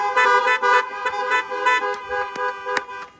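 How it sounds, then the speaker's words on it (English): Car horns honk outside a 2021 graduation service: loud, tonal blasts in repeated uneven bursts, broken by a few sharp short toots. "Give them some more honks if you want."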